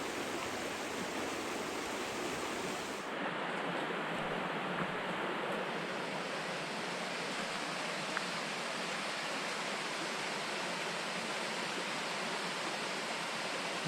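Mountain creek in the Great Smoky Mountains rushing steadily, a dense continuous wash of water close by with no voices, unbroken throughout.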